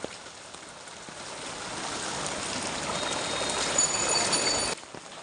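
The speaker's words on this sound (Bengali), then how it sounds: "কি বৃষ্টি বাবা, সেই কাল দুপুর থেকে শুরু হয়েছে, সারা রাতও হয়েছে, এখনো থামার নাম নেই।" Heavy, steady rain pours down on a rainy day, a dense continuous hiss that swells slightly and then cuts off abruptly near the end.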